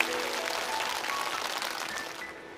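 A studio audience at a televised music show applauds the mothers and teacher Fu. The clapping is dense, steady and fairly close, and it fades slightly toward the end with no talk.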